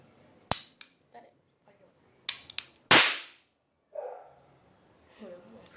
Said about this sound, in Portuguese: Revólver espoleta, está carregado, bem aqui, se usa a espoleta